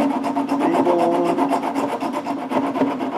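Bevel file rasping across the fret ends of a prototype crate guitar built from a dynamite crate, a steady back-and-forth scraping stroke close up, continuous and fairly loud with no talking.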